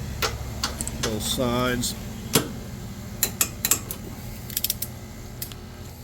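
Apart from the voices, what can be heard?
torque wrench tightening bolts on engine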